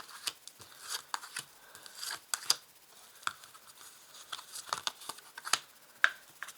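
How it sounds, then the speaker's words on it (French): Tarot cards being drawn and handled during a reading: soft, quiet shuffles, slides and light snaps scattered in uneven bursts, close by with no talking. "je vais tirer 5 cartes"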